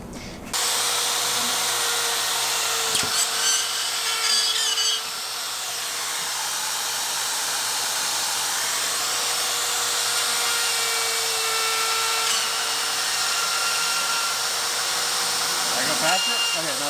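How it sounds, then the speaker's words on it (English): Rotary drywall router cutting around an outlet box in new kitchen drywall during a mobile home remodel: a loud, continuous high-pitched whine runs nearly the whole time, with a brief dip midway and an abrupt start and stop. "just like a router, we're going to trace out the box"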